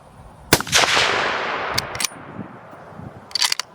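A single loud rifle shot fired at a roebuck during stalking hunting, a sharp crack with a rolling outdoor echo tail, followed by a few fainter clicks like a bolt being worked.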